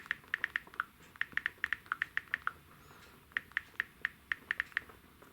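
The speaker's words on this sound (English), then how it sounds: "and then I start typing" Taps on the on-screen keyboard of an iPhone 15 Pro while typing a note, a quick run of light clicks in bursts with short pauses, close and fairly quiet, no talking.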